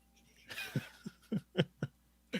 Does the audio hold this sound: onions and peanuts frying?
no